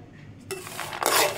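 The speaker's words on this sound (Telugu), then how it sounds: "వేరుశనగ గుళ్ళు, పండు మిరపకాయలు మిక్సీ జార్లోకి ట్రాన్స్ఫర్ చేసేసుకుంటున్నాను" Peanuts and red chillies tumble into a steel mixer jar in a home kitchen, making two quick rattling, clinking bursts of dry pieces against metal after a quiet start, close to the microphone.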